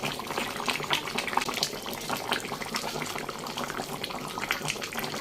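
Chicken curry simmering and reducing in a pot, a dense bubbling and popping texture that stays steady and close throughout, with no talk over it.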